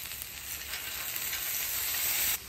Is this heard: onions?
yes